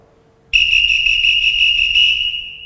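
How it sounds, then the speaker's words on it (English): A swim meet referee blows a whistle at a pool, giving one loud, shrill, sustained blast with a slight fluttering pulse that starts suddenly after a quiet moment and then tapers off. "So the referee first blows short whistles."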